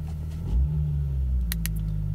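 A Toyota Soarer engine fitted with a Haltech Elite 2500 and a turbo rumbles steadily at idle and swells briefly with a short rev, then settles, close and continuous.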